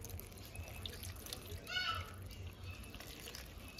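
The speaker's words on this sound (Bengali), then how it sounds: "আমি ধুয়ে নিচ্ছি।" Pieces of hilsa fish rinsed under a running kitchen tap, a steady, fairly quiet stream of water splashing with a brief louder gush partway through.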